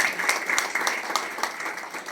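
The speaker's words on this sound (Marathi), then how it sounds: "यांच्यासाठी सुद्धा जोरदार टाळ्या झाल्या पाहिजे।" An audience at a company anniversary celebration breaks into applause, a dense burst of many hands clapping at close range that holds steady before easing slightly.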